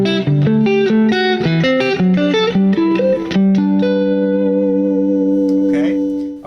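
An electric guitar run through effects plays spread triads one note at a time in a quick stepping line, then settles into a long ringing chord that fades out, with no talking.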